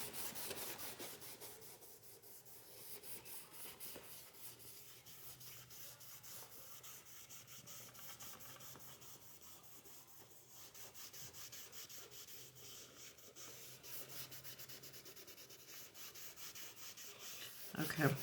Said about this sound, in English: I'm rubbing in different directions to get into the wrinkles, because the leather